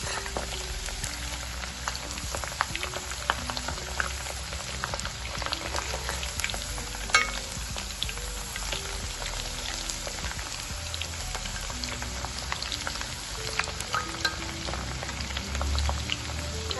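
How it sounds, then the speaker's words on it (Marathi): A batch of home-made KFC-style French fries frying in hot oil, giving a steady, even bubbling crackle that stays moderately quiet and unbroken throughout, with no voices. "एका वेळेस तेलामध्ये जेवढे फ्रेंच फ्राईज बसणार आहे तेवढेच आपण टाकून छान 2 मिनिटांसाठी तळून घेणार आहोत"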